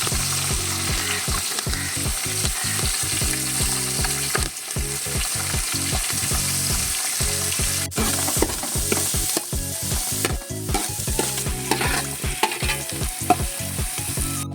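Chopped vegetables frying in a pan for a Kerala fish-head curry while being stirred, rapid repeated scraping and clinking strokes of a spoon over continuous sizzle, close and steady for the whole stretch.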